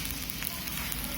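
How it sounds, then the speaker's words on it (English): Dolsot bibimbap sizzles in a hot stone bowl, a close, steady crackling hiss that holds level without a break. "And the sizzle sounds so nice."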